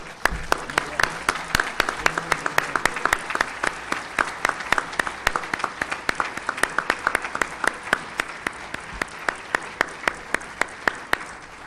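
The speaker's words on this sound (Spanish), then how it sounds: "Creo que vale un aplauso para el diputado." An audience applauds a deputy at a book launch about oil privatisation, starting as a crowd wash of clapping and settling into steady rhythmic unison claps, loud and sustained.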